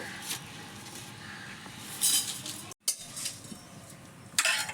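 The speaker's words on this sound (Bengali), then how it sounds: "প্রথমে আমি ভাজা মশলাটা করে নেব" Whole spices dry-roasted in a pan, heard as intermittent metallic scrapes and clinks of a utensil against the metal over a low kitchen hum.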